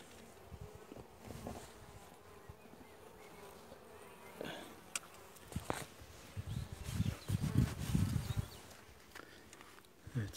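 Honeybees hum steadily around an opened hive of a weak colony in June, with occasional knocks and rustles from handling the frames close by.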